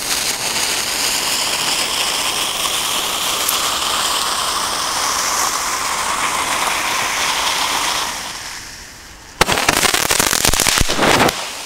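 Pyroart Star Runner Roman candle fireworks with blue stars and crackling effects, a steady loud hissing, fizzing roar lasting several seconds, then a brief lull before a burst of dense crackling pops close by.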